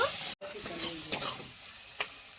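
Kashmiri chili powder and green peas sauté in a pan for a vegetarian paneer dish, a close sizzle broken by a brief silent gap and a couple of sharp spatula scrapes.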